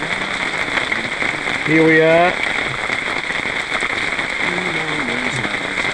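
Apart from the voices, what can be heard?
heavy rain pouring down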